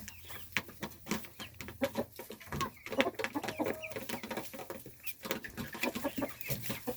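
On a farm homestead, a rooster feeding with young chicks makes soft, rapid clucks over a busy bed of small peeps and scratching, close and continuous.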